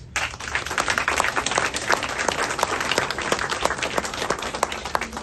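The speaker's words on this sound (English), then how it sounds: "A round of applause, please." Enthusiastic applause from an audience, crisp individual claps layered into a continuous, moderately loud patter that carries on steadily.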